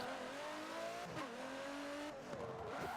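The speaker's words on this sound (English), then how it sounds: "I've got the Aston Martin Vulcan, an absolutely lovely car, absolutely brilliant." An Aston Martin Vulcan in Forza Motorsport 7 gives a loud, sustained engine drone at high revs, dipping briefly at two gear changes and then climbing again.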